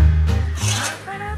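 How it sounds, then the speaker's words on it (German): Raw potatoes being peeled for rösti, close rasping scrapes of the peeler against the skin, loud and near, with a short low hum beneath. "1 Kilogramm Kartoffeln schälen wir als erstes."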